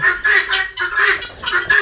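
Laying hens on a poultry farm in Jamalpur give loud, close, repeated squawking calls, about five harsh bursts in quick succession with brief gaps between them.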